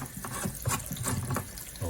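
Water runs and splashes while a part of a Bissell TurboClean PowerBrush Pet carpet cleaner is rinsed out, a faint, steady flow with small uneven gurgles close by.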